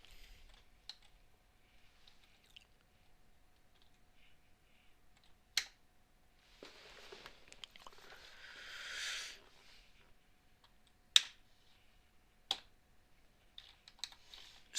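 Sparse, sharp computer keyboard clicks sound in isolated bursts against near-silence, with a soft rustling swell partway through.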